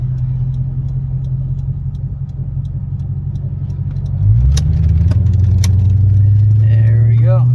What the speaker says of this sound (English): coming to a stop the way the motor sounds. It's idling low